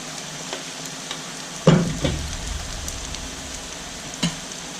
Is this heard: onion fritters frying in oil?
yes